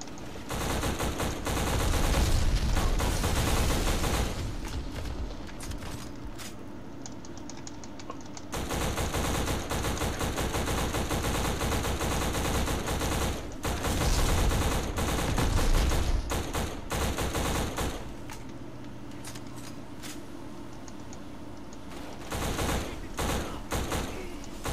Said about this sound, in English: Huge ass explosions